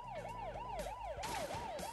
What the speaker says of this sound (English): Shut up, police car.